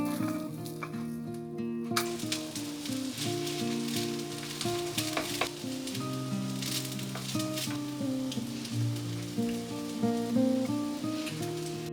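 Homemade hamburg steak patties frying in a pan give off a steady, close sizzle that runs unbroken throughout, with a tonal music bed playing underneath.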